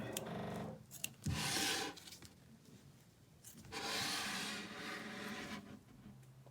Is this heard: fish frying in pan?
no